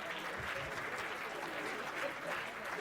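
An audience claps in a steady, continuous round of applause that sounds somewhat distant and faint throughout.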